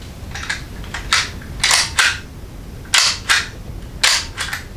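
The lever on a Caldwell Universal Pistol Loader is squeezed while loading hollow-point pistol rounds, giving a string of sharp, loud plastic clicks and snaps at irregular intervals over a steady background hiss.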